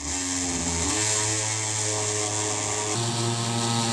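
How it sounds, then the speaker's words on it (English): An oscillating multi-tool cuts through bathroom drywall, giving a loud, steady buzzing drone that shifts pitch a couple of times as the blade bites, running alone without talk. "I'm going to grab my oscillating tool and cut the drywall out."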